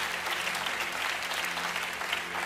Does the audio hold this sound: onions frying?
no